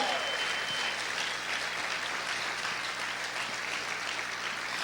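Church congregation clapping loudly during a sermon, a dense, continuous roar of many hands that holds steady for several seconds with no voice over it.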